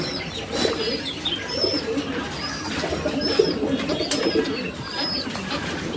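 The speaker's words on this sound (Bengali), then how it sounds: "এই যে একটা মা কবুতর তার সন্তানকে খাবার খাওয়াচ্ছে" A pigeon feeding its chick coos softly at close range in a steady, low, repeating rhythm, with faint bird chirps and background noise.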